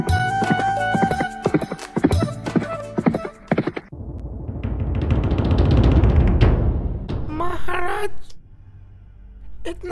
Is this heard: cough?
no